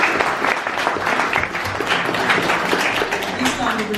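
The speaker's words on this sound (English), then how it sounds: "Let's give her a clap of it." An audience applauds at a live stage show of spirit mediumship, a steady wash of clapping from a crowd throughout, with a voice talking over it.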